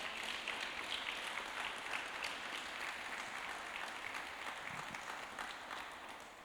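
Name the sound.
church congregation applause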